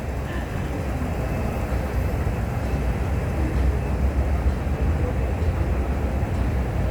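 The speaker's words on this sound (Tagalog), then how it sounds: "Ayun, train papuntang city." Airport train bound for the city, a steady low rumble with broadband rolling noise holding constant throughout, heard from close by without clear speech.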